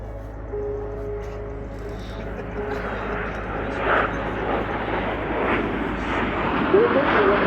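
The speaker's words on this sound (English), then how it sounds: "pony number 1 from the right is now going to show us how to perform a roll with 8 aircraft" Frecce Tricolori jets roll as an eight-aircraft formation at RAF Fairford, their engine roar swelling steadily and growing louder toward the end beneath a continuous low hum, with a commentator talking over it.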